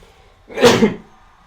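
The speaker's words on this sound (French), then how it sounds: "je vais éternuer, je le sens" A single sharp sneeze bursts out after a moment of near silence, loud and close, then fades quickly.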